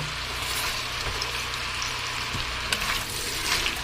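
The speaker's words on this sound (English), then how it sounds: "we're going to soften these, saute them really slow" Onions sautéing slowly in a pan with avocado coconut oil and a little butter, a steady close sizzle with faint stirring scrapes throughout and no talk.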